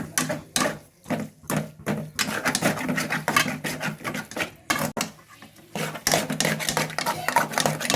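A spoon repeatedly scrapes and clatters against a pan while goat blood fry with masala is stirred, in irregular rhythmic strokes close by, with a person talking over the stirring.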